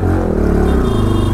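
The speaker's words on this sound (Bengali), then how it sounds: "বাইকের অ্যাডজাস্টের আওয়াজটা শোনো" A motorcycle with a loud modified exhaust rumbles up close in a narrow lane, a deep throbbing, popping engine note that stays loud throughout.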